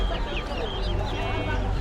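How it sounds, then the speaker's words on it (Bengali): Chicks peep and cheep amid other fowl at a busy poultry market selling duckling and chicken chicks, a dense close chorus with a voice talking underneath. "এখানে আছে হাঁস মুরগির বাচ্চা"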